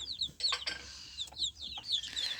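A brood of thirteen young chicks cheeping in short, high, repeated peeps, several overlapping at close range in a quiet setting with no talk.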